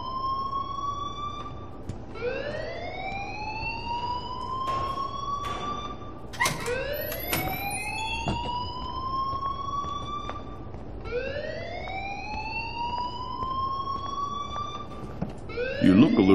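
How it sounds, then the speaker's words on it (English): Alarm in the Life is Strange video game, a wailing siren that sweeps upward in repeated rising cycles every few seconds, fairly loud and continuous under faint background sound. "please turn off that alarm since that's your job"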